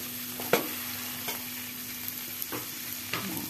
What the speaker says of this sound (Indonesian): sudah mencair margarinnya, kita masukkan semua bumbu-bumbunya